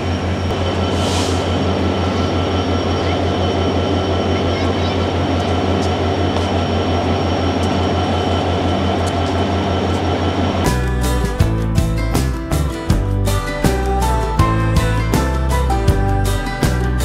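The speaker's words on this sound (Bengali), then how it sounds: "চুয়াডাঙ্গা থেকে ট্রেন ছেড়ে দিল" The Sagardari Express pulls out of Chuadanga station at night with a steady, loud rolling rumble, then turns abruptly to a harsher, rhythmic pulsing clatter for the last few seconds.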